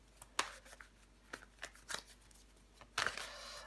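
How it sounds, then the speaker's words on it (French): Tarot cards handled and turned over at close range: soft papery flicks and snaps in an irregular series, quiet, with a sharper flurry at the end and no talk. "On va recouvrir des cartes."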